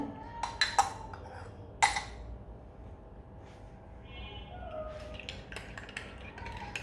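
A spoon clinks sharply against mugs a few times while sugar is stirred in, followed by quieter scraping and a soft tap, all fairly close against a low background hum.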